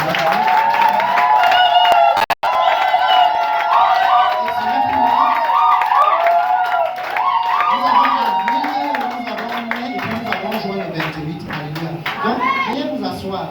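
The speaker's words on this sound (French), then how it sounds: "acclamons encore le Seigneur pour la vie" A church congregation at a prophetic worship service cheers and applauds the Lord, a loud, sustained mix of clapping, shouts and raised voices, with singing-like tones running throughout.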